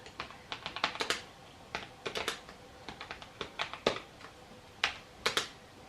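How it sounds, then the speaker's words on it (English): Typing on the keyboard of a 1995 IBM ThinkPad 370c laptop, a close, crisp clatter of key presses that comes in quick uneven bursts with short gaps, alone with no talking. "this is the best laptop keyboard I've ever used"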